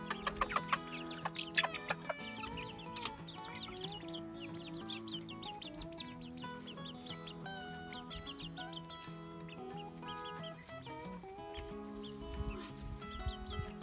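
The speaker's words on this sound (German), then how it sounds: "Darum kriegen die älteren Blätter immer die Hühner." Backyard chickens clucking and cackling while pecking at older spinach leaves from a garden, a steady chorus of soft and sharper calls from several birds, close by, with no talk.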